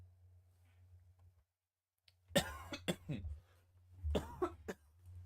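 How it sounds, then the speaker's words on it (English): After a low hum and brief silence, a person coughs several times in two harsh, close bursts. "This cough refuses to leave me."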